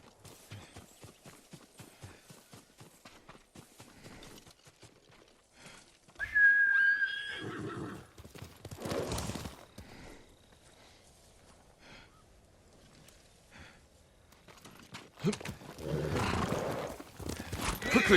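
A horse in Ghost of Tsushima on PS4 gallops and gives a sharp whinny, hoofbeats clattering at a steady rhythm under a whistle and swelling game music, with a brief voice in between.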